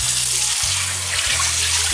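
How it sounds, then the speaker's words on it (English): Hot water runs hard from a kitchen tap while a cast iron pan is being cleaned, a loud, steady rushing hiss with a low hum pulsing beneath it. "Turn on your hot water."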